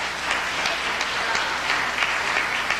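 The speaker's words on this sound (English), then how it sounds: "let's give ourselves a round of applause" An audience at a talk applauds with steady, dense clapping that carries on for a few seconds at a moderate level with no break.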